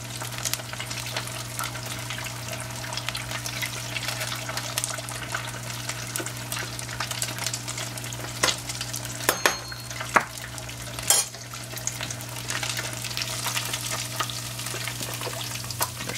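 Beer-battered catfish frying in hot oil, a steady close sizzle and crackle with a constant low hum beneath and a few sharp clinks of a utensil against the pan, no talking.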